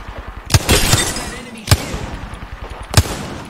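Video game gunfire comes as three loud, close shots roughly a second apart, each followed by a dense rattling tail, with a steady background rumble and scattered game noise throughout.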